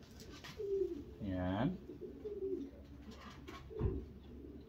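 Pigeons cooing nearby in a few soft rolling coos, with a person speaking briefly in between.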